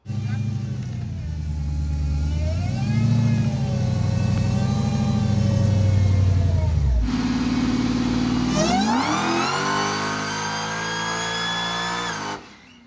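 A Mopar truck revs hard during a dyno pull, its engine climbing in pitch, dropping back abruptly around the middle, then winding up again loud and close before cutting off, with voices faintly underneath.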